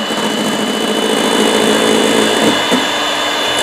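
An electric mixer beats pandan sponge cake batter toward stiff peaks, giving off a loud, steady motor whir with a dense rattling buzz that holds without pause.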